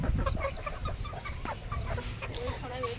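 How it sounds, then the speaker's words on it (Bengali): Young chickens cluck and peep softly near the ground while being fed, short scattered calls over a busy background, with a person talking nearby. "এখানে এই যে ছোট মুরগিগুলো।"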